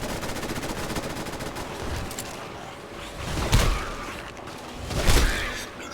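Automatic gunfire from a companion during a Fallout 4 firefight, with bursts of shots at a moderate distance, two louder volleys standing out near the end over the game's ambient noise.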